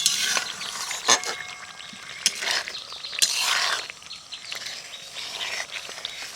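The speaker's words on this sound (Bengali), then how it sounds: "এবার আমি এই সব কিছুকে একসাথে একটু ভালো করে ফুটিয়ে নেব একদম আস্তে আস্তে" Amla hair oil with cinnamon simmering slowly in a pan, giving a steady bed of soft crackling and bubbling with scattered sharper clicks and ticks throughout, close and moderately loud with no talking.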